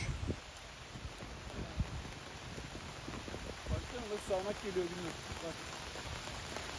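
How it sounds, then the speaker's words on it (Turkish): Steady rain patters softly and evenly, with faint background voices murmuring underneath. "Yağmur yağıyor, heçler kapanıyor."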